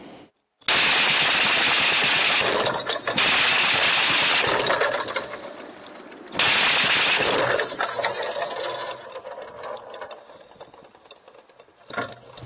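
A Browning heavy machine gun fires at a Shahed drone in long sustained bursts, loud and close, with short pauses between volleys and a fading rattle toward the end.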